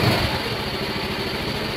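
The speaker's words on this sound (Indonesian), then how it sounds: "Oke, dan motornya menyala ya. Motor ini udah siap di start ya." A Honda Vario/PCX scooter engine idles steadily after starting, giving a close, even, continuous hum with low rumble and no talking.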